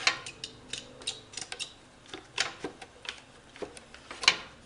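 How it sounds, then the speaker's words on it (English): A clamp is tightened down on a wooden miter sled, making a run of small dry ticks and clicks at an uneven, ratcheting rhythm, close and fairly quiet with no talking. "I'm going to go ahead and put a clamp on it."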